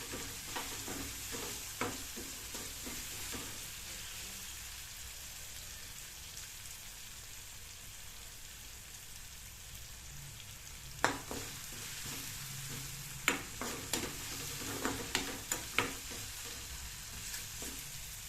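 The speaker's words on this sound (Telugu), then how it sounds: "తాలింపు వేగింది" Steady, quiet sizzle of spices frying in hot oil, with a few sharp crackles and pops growing more frequent toward the end; no talking.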